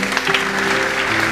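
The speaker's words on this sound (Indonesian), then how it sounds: "Boleh tepuk tangan." A church congregation claps during a worship service, a brief, dense wash of applause at steady loudness throughout.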